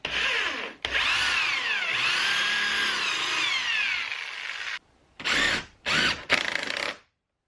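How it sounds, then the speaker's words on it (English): A power drill bores pilot holes for screws while an air conditioner is installed in a workshop, one long steady whirring run followed by a few short bursts, close and loud with no talk. "I'm going to pre-drill a couple of holes"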